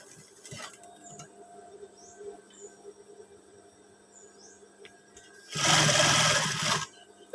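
A sewing machine stitches a pocket flap in one loud, steady burst of rapid mechanical chatter lasting about a second, after quiet hum and light handling clicks.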